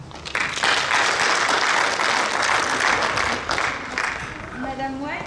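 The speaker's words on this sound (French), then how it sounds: "je vous invite à les applaudir" An audience at a high school mini-enterprise event in Molsheim gives sustained applause, a dense, loud wash of clapping lasting several seconds before fading as a voice begins speaking.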